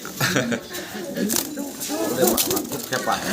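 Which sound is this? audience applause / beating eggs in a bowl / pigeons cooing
pigeons cooing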